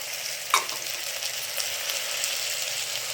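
Steady frying sizzle of beans, carrot, tomato, peanuts and field beans in a pan for Bisi Bele bath, with a brief stirring clatter near the start.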